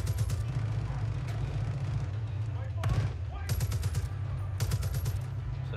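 Machine gun fire in a shooter video game, with bursts of rapid shots in clusters near the middle and end, over a dense, steady game soundscape and music.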